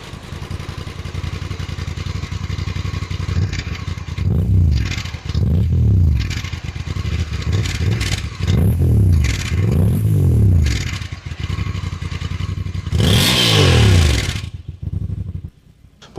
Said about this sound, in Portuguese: esse pequeno ronco característico do bicilíndrico